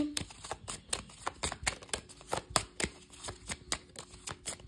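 Tarot cards being shuffled and drawn during a reading, heard as a run of crisp, close riffling and snapping card noises in a quick, uneven rhythm with no talking.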